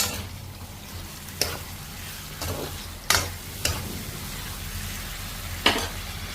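Chicken pieces seasoned with salt and turmeric fry in a pan under a constant sizzle. Sharp scrapes and clanks of a utensil stirring break in several times at uneven intervals, up close, with no talking.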